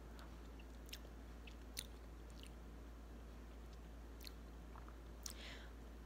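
Quiet, close chewing of raw cake batter containing raw egg: soft, sticky mouth sounds with scattered small clicks over a low steady hum, with no talk.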